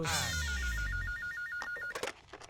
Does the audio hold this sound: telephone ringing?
yes